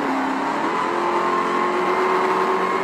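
A Dodge Charger Hellcat accelerates hard on a highway, its engine a sustained, loud roar whose pitch climbs slightly throughout.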